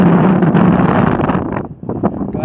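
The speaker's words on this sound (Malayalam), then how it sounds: "ഒരു രക്ഷയില്ലാത്ത കാര്യം എന്ന് വെച്ചാൽ ഒരു രക്ഷയില്ലാത്ത കാറ്റ്." Strong wind on a hilltop during a trek buffets the microphone in a loud, continuous roar that dips briefly before surging back.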